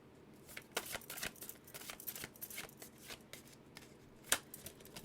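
A deck of tarot cards is shuffled close by, a series of quick flicking riffles and snaps with uneven rhythm, one sharper slap near the end, otherwise quiet.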